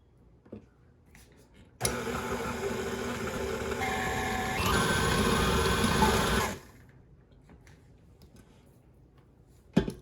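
An electric mixer whirs loudly for about five seconds while mixing thin mint cookie dough, its motor pitch shifting as it works, then cuts off to a quiet room with small clicks.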